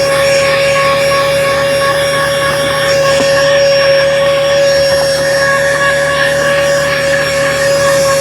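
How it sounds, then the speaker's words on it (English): A vacuum cleaner runs steadily while cleaning a car interior during detailing, a loud constant whine with a strong high tone and a dull roar beneath, its pitch shifting slightly as the nozzle moves. "first let's vacuum it"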